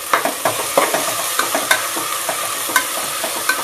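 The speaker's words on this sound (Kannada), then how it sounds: "ಶುಂಠಿ ಬೆಳ್ಳುಳ್ಳಿ ಪೇಸ್ಟ್ ಹಾಕ್ಕೊತಾ ಇದ್ದೀನಿ. ಇದು ಸ್ವಲ್ಪ ಫ್ರೈ ಮಾಡ್ಕೊಳ್ಳೋಣ." Ginger garlic paste fries and is stirred in a pan while making tomato bath, with a steady sizzle broken by frequent sharp scraping stirs close up, no voices.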